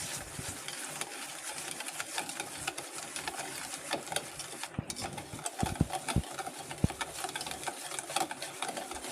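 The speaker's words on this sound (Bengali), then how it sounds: "চিনিটাকে একটু মিশিয়ে নেব আমের সঙ্গে।" A spoon stirs sugar into mango pulp in a bowl, making soft continuous scraping and clinking with sharper taps near the end, close up against a faint steady background hum.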